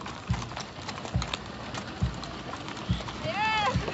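Horses in a festive cavalcade for a Virgin of Guadalupe patron saint fiesta, hooves clip-clopping in a steady rhythm of about five clear strikes, with a sharp whistle-like squeal near the end and an announcer's voice over the crowd.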